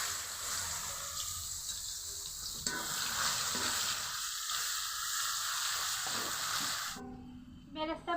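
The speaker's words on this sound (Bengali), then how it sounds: "এখন আমি বেরেস্তা ভেজে নিব" Sliced onions frying in hot oil for biryani birista give a continuous, even sizzle close up, then stop abruptly near the end, followed by a few soft clinks.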